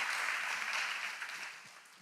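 Congregation at a Sunday church service applauding, a broad wash of steady clapping that holds for about two seconds and then slowly fades.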